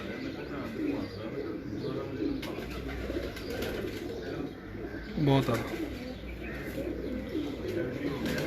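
Pet pigeons coo softly and steadily in a loft, a low continuous murmur with occasional chirps, while someone speaks briefly over it.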